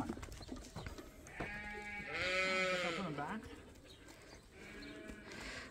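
Several lambs bleating outdoors on a livestock farm, a few overlapping wavering calls at moderate distance, with light background noise and occasional footsteps.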